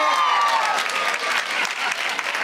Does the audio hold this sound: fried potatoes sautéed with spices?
no